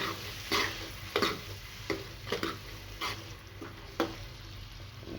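A spoon stirs ground spices, red chili powder and salt, in a pan for a white lobia curry, giving soft scraping strokes and light clinks at a steady, unhurried rhythm, fairly quiet and close.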